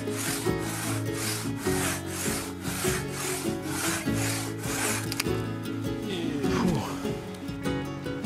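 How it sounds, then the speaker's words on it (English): Hand saw cutting through firewood outdoors, a steady back-and-forth rhythm of strokes for about five seconds, then the sawing breaks off into a scraping finish, close and fairly loud with some background music-like tones. "There's always more firewood to cut."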